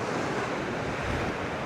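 Ocean waves crash and surge at the Manora Peninsula fort in Karachi, a loud, continuous roar of surf mixed with wind buffeting the microphone and no voices.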